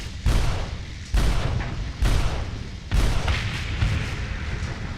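Rocket-propelled projectiles firing in the Starsector space game: four heavy booming launches roughly a second apart, each with a deep thump and a long roaring decay, loud and alone.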